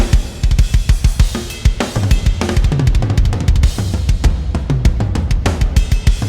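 Programmed drums in a dense heavy music mix, humanized to sound played, pound out fast kick, snare and cymbal hits under loud distorted guitars, with no talking.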